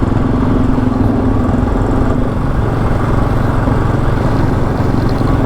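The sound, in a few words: Honda motorcycle engine on group ride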